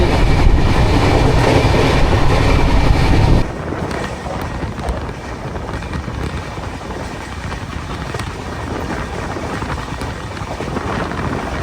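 The 12027 Chennai–Bengaluru Shatabdi Express runs at high speed with a loud, continuous rumble and wind roar. The sound drops to a steadier, lighter rolling noise partway through.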